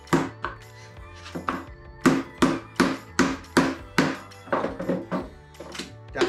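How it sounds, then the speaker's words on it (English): Hammer strikes driving a nail into a wooden birdhouse, about a dozen sharp, evenly spaced knocks close by, with a few lighter taps between the heavier blows. "Again, we're just gonna put one nail in."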